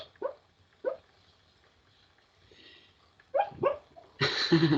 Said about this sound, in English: The dog's dreaming. He's barking in his sleep.